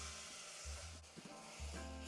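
Onions sizzle and hiss in a pan of caramelized sugar, a close, quiet frying crackle with brief stirring bursts.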